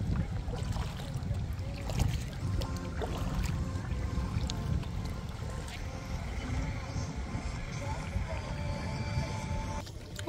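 A boat paddled on open water against the wind, rushing wind and water splashing in a continuous noisy wash with occasional paddle strokes, voices talking at times.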